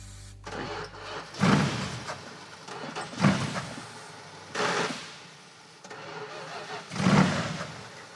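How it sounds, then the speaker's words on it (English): A 1975 AMC car engine cranks on starting fluid, three or four separate bursts of churning, whirring starter effort spaced a second or two apart, each swelling then dropping away without catching. "Okay, starting fluid. You want to make it actually run?"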